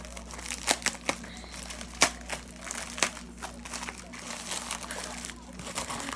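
Plastic wrapping and tape on a Korea Post package crinkling and rustling as it is pulled open, with several sharper crackles over a steady low hum, close and moderately loud.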